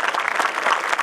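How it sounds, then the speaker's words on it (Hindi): Thunderous applause from a large audience at a Hindi poetry gathering in Dehradun, dense continuous clapping at full strength with no voices over it. "और घनघोर तालियों से हम कमल जी का एक बार जन्मदिन मनाना चाहते हैं।"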